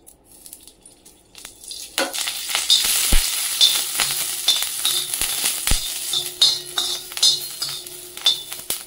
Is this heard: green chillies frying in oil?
yes